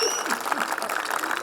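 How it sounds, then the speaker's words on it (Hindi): Audience clapping at a Holi festival event, a dense burst of applause heard close and loud, with voices mixed into the crowd noise. "एक बार तालियां बजाइए।"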